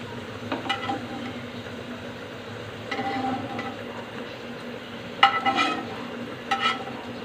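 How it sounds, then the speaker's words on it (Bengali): Potatoes fry in a pan with a low, even sizzle, punctuated by occasional clicking spatula stirs and scrapes close by. "আলুগুলো আমার ভাজা হয়ে গেছে"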